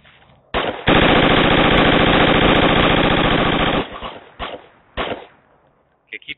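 Sustained automatic gunfire in the military shooter game Project Reality: a loud, rapid burst of roughly three seconds, bracketed by single sharp shots and shorter bursts, with a few scattered reports trailing off afterward.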